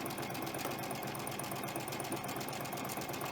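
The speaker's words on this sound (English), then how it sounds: "all I'm doing is stitching it" A sewing machine chain-stitches flying geese quilt pieces with a fine needle and short stitch length, giving a faint, steady, rapid mechanical whir with an even pulsing rhythm throughout.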